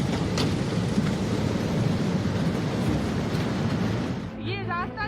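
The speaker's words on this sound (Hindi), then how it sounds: "पहाड़ों के ज़्यादातर इलाकों में इस वक्त ज़बरदस्त बारिश हो रही है" Heavy monsoon rain pours down in the mountains as a dense, steady hiss and roar, giving way at the end to a voice.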